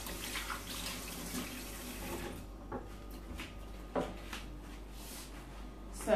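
Tap water runs into a sink while hands are rinsed, first a steady flow, then softer splashes and drips as it eases off, with a faint clunk near the end.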